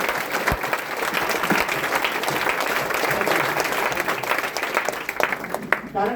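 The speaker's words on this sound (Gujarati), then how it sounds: "ભાઈ લોકોને કહીશ એકવાર ઊભા થઈને બેન માટે આપણે તાળી પાડી શકીએ." An audience stands and applauds for the women at a Women's Day class session in Gandhinagar, dense sustained clapping filling the room with a few louder nearby claps and some voices mixed in.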